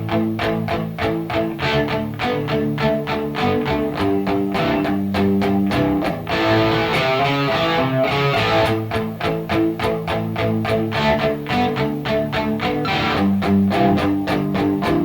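Electric guitar plays the chords of a rock song slowly, crunchy overdriven strums in a steady rock rhythm with ringing sustained chords, loud and close, no talking.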